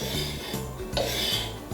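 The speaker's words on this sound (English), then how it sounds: "So I'm just going to carefully scoop up all of my chocolate pieces and put them into a bowl" Chocolate pieces being scooped from a board into a bowl while making a white chocolate matcha latte, heard as close, continuous scraping and rasping with a few knocks, and no talking.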